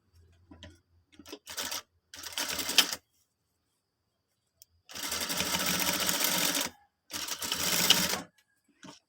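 Sewing machine topstitching trousers in several bursts of rapid mechanical whirring and needle clatter, short starts at first, then two longer runs separated by silent pauses, close and loud.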